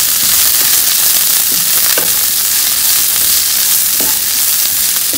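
Corn and blanched green beans frying in a hot pan give a loud, steady sizzle that fills the clip, with occasional soft clicks from stirring.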